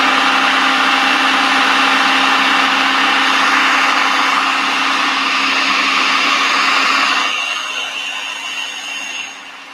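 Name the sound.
high-powered blender making homemade nut butter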